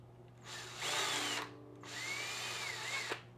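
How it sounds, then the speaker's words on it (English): Power drill boring a hole through a plastic fishing bait head in two bursts, each whine revving up and spinning down with a short pause between, close and fairly loud. "I'm going to finish drilling that hole"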